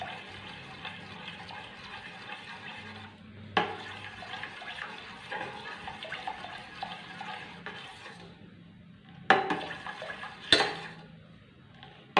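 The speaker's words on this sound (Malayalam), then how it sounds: "ആ സമയത്ത് നമുക്ക് ചൂടുവെള്ളം ഒഴിച്ചു കൊടുക്കാം" Hot water poured into caramelizing sugar in a pan for plum cake, a steady hissing, bubbling wash with a few sharper splashes toward the end, fairly quiet and without talk.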